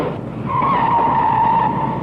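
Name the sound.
Fiat 124 stunt car skidding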